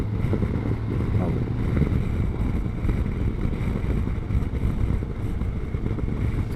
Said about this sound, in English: This is the Ducati Scrambler 1100, right?